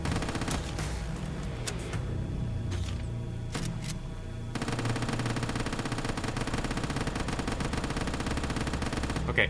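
Gunfire in the video game Quarantine Zone: a few scattered sharp shots, then a dense, continuous automatic burst that runs loud and unbroken through the second half.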